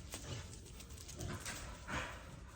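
A puppy whimpers and yips in a few brief, soft bursts, close but quiet against light background noise in a garage setting.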